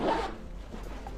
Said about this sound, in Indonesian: Jadi ini ada double resletingnya ya